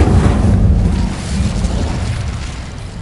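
In the Hogwarts Legacy video game, the Incendio fire spell is cast and lets out a loud, deep whooshing burst that dies away over a few seconds into a low rumble.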